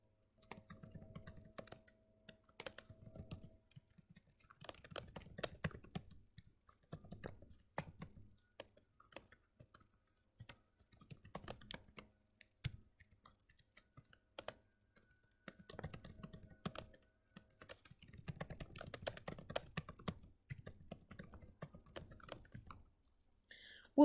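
Typing code on a computer keyboard, quiet bursts of rapid key clicks separated by short pauses, recorded up close and repeating throughout.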